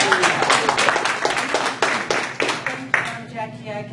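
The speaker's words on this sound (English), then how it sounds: "Give yourself a round of applause." Applause from a training-seminar audience, clapping in uneven bursts with voices over it, fading toward the end.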